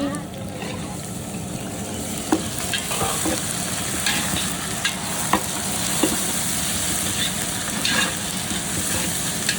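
Ginger garlic paste frying in a pan for biryani, a steady close sizzle with scattered stirring clicks from a spoon against the pan, heard with outdoor background noise and a faint low rumble.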